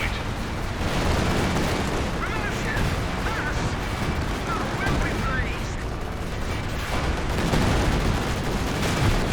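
Dense, continuous gunfire and explosions from a Company of Heroes 2 match, with strafing hits landing in a steady loud barrage of bursts and rumbling impacts throughout.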